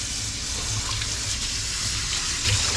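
Steady running water from a faucet splashing over cannonball jellyfish in a drain rack for a second rinse, a continuous, fairly loud gush with no pauses, close and alone without talk.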